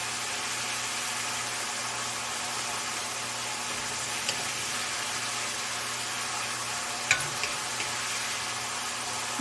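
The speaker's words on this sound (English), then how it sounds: "you can see my masala is cooking so nicely" Tomato masala for a Bengali fish curry sizzles and fries steadily in a pan, a continuous close crackling hiss with a couple of faint clinks near the end.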